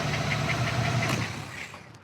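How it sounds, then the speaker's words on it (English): A 1940 Chevrolet Coupe engine idling with a slight belt slap: steady low rumble with a faint rhythmic ticking slap, moderately loud and close, easing off near the end with no talk. "engine sounds great. You can tell it's just that little belt, maybe like a slight belt slap or something at idle."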